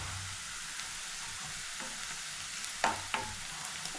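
Food stirred and frying in a pan during home cooking with onion, cabbage and carrot, a steady broadband sizzle with a couple of sharp scraping stir clacks near the end, close and alone.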